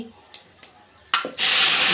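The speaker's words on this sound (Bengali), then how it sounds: "দেখো গোটা গরম মশলা তেজপাতা দিয়ে দিয়েছি" Whole garam masala and bay leaves hit hot oil in a kadai, a broad loud sizzle and hiss that bursts in near the end after a few quiet clinks and taps.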